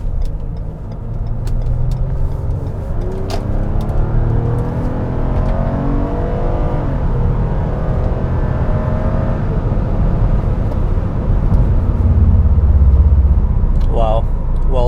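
A 2014 Toyota Avalon XLE accelerating on a test drive, its engine rising steadily in pitch under constant road and cabin noise, with someone talking over it from inside the car.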